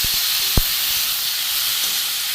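Chopped tomatoes with turmeric fry in a pan for a green pea curry, making a steady, close, steamy hiss with one sharp clack of a utensil near the start.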